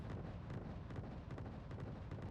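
Rumbling explosion blast from a helicopter being destroyed in the real-time strategy game Wargame: Red Dragon, a dense, sustained low roar with crackling bursts filling the whole moment, loud and continuous without speech.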